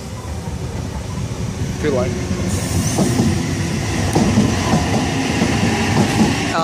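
A train arriving at a platform at Adamstown station in Sydney, its steady rumble of wheels and carriages close by with brief squeals and clicks, under a station announcement and some talk.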